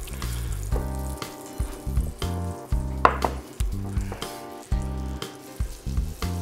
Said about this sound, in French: On va faire fondre ce beurre.